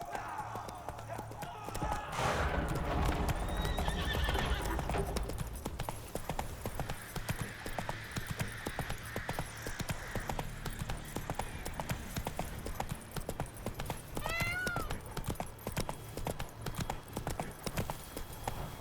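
Hoofbeats of a horse galloping steadily for the full stretch in The Witcher 3 video game, a continuous rhythmic clip-clop under game music and ambience, with a brief whinny and a voice line partway through.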